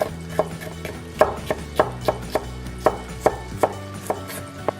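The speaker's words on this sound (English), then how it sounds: "Just slice them lengthways and then slice them thinly this way." A knife slices chillies thinly on a chopping board, giving a close, steady run of crisp knocks at a brisk, even pace.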